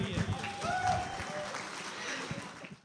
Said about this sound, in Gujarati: ફરી એકવાર તાળીઓ થઈ જાય દિશા માટે.